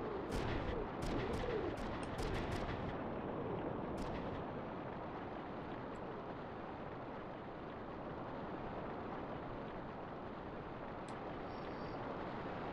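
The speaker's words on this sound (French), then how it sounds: "Vous avez vu les canons sur la colline?" Cannon fire from guns on a hill in the PlayStation game Front Mission 3, heard as a dense, steady rumble of distant artillery with a few sharp reports early on, continuous throughout.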